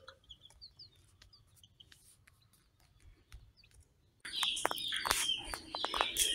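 Laying hens in a small coop give sparse, faint chirps and clucks, then a louder burst of clucking and calls breaks in over the last couple of seconds.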